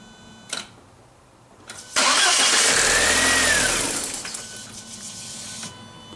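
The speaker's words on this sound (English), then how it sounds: "Once it starts, try and push the foot pedal and keep it running." A 1999 VW Passat with a 1.8L turbo engine cranks after a couple of faint clicks, then catches and runs loudly for about two seconds before settling to a quieter idle that fades and stumbles.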